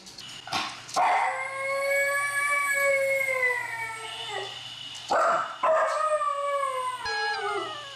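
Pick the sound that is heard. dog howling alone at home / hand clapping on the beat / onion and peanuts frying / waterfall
dog howling alone at home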